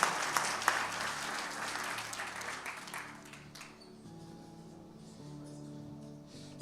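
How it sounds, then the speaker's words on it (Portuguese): Congregation at a church celebration service claps for the actors, the applause bright and busy at first, then thinning out after a few seconds as soft sustained music tones linger underneath. "Aplauda pelos nossos queridos"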